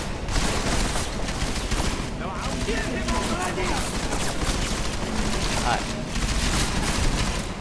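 Rapid gunfire from a firefight in Deus Ex: Mankind Divided, sustained and dense for the whole stretch, with a voice speaking briefly over the shooting.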